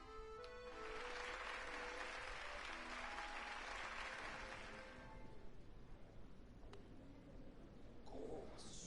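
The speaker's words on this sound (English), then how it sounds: "Hear how the crowd adores you." Crowd applause in the Hollow Knight video game during the Grimm boss fight, a loud sustained wash of clapping and cheering that fades after about five seconds into quieter game ambience.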